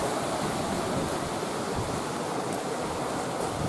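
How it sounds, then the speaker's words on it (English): The Ballinderry River flows near Cookstown, County Tyrone, as a steady, even rushing of water with no breaks or voices. "river here. This is the Ballinderry River"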